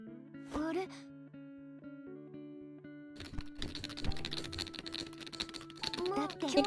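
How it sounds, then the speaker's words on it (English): Rapid, sharp tapping on a computer keyboard bursts in after a quiet stretch, dense clicks running close and fairly loud alongside tonal game music, with brief vocal sounds near the start and end. "You can hear how fast I'm tapping the keyboard."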